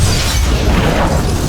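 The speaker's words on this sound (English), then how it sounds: "A massive explosion tears through the entire floor." A massive movie explosion: a loud, sustained blast with a deep low rumble and a roar that fills the whole short moment without any voices.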